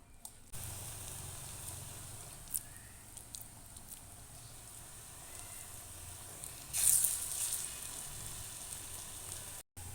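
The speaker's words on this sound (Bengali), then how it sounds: "তো এদিকে আমাদের পকোড়া ভাজা হচ্ছে" Pakoras frying in hot oil for a home-cooked curry pakora dish, a steady soft sizzle running throughout with a brief louder bubbling burst partway through, no talk.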